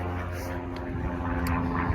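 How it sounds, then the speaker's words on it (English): An airplane flies past a house, a steady droning engine roar that fills the whole stretch at an even loudness, with no clear talking over it. "there's always shit flying past my house, like there's a plane, bro."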